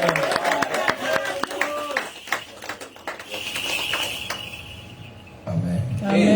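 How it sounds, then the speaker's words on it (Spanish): A church congregation claps in praise during a sermon, with sharp scattered handclaps mixed with a preacher's voice speaking over and between them. "Aplaudimos al Señor."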